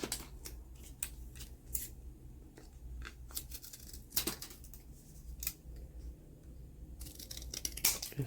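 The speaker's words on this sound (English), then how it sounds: "And then you can just take your scissors" Scissors snipping through scrap paper for a mini house journal card, a quick irregular series of sharp close-up cuts over a faint steady room hum.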